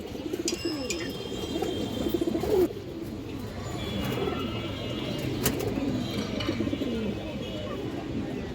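Pigeons, including a fine male, coo softly in a loose low murmur nearby over several seconds, with a few brief higher calls and a short rustle in between.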